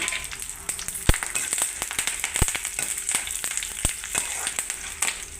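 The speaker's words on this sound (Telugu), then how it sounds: "బాగా రోస్ట్గా వేయించాలి" Urad dal, chana dal and curry leaves sizzle and crackle in hot oil for a raw banana curry, a steady close frying hiss broken by sharp pops and stirring clicks.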